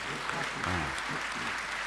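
An audience at a Hindi kavi sammelan poetry recital applauds in a dense continuous wash of clapping while a voice speaks briefly over it.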